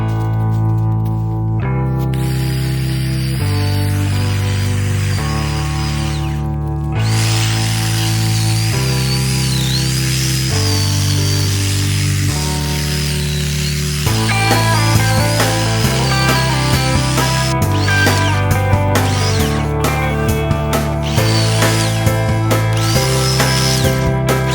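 A hedgehog cultivator tool, apparently powered by a drill, chops green manure plants such as lemon balm. It gives a steady, loud motorized whir that shifts pitch in stepped bursts and runs continuously throughout, with no talking.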